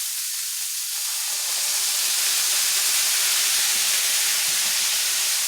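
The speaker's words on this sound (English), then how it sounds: "The great important thing about soy sauce is to sizzle it." Soy sauce hits a hot pan while cooking Filipino ground beef omelette, giving a loud, steady, close hiss of sizzling that swells slightly and holds without pause.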